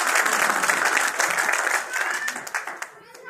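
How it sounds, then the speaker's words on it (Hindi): Audience applause at an RCM business meeting in a hotel in Agra, a dense wash of clapping that stays steady and then thins out over about three seconds, with no talk over it. "जोरदार तालियां"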